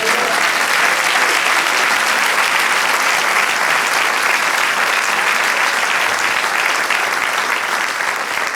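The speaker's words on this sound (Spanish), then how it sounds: "Dale un aplauso al Señor." A church congregation claps together in steady, dense applause that carries evenly from start to end, loud and sustained with no talk over it.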